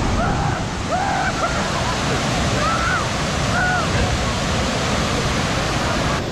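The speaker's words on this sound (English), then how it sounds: "So the waves aren't as big as last time." Waves in a water park wave pool give a steady, broad wash of surf noise, loud and close, with faint voices and calls in the background.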